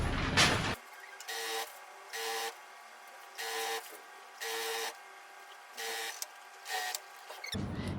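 Sewing machine stitching fabric strips and lining for corset loops, running in about six short bursts of roughly half a second each, separated by brief pauses, at a moderate, close level with no talk.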